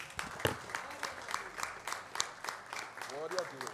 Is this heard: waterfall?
no